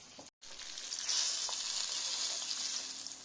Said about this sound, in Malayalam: നമുക്ക് ചിക്കൻ നന്നായിട്ട് ഫ്രൈ ആയി വന്നിട്ടുണ്ട്